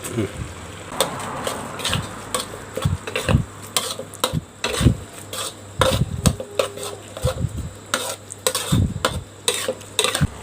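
Stir-frying chopped garlic in a pan for a Thai chili pork dish: a utensil scrapes and clanks repeatedly against metal over a soft, steady sizzle.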